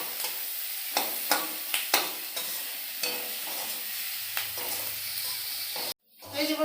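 Onions fry in a pan with a soft steady sizzle broken by sharp stirring scrapes and clicks, close by, with a faint voice in places; the sizzle cuts out abruptly near the end.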